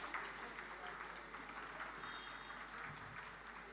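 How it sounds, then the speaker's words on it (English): Audience applause for a panel at a literary festival hall, a steady, moderately distant wash of clapping that holds evenly throughout at low level. "Can we have a round of applause for our panelists?"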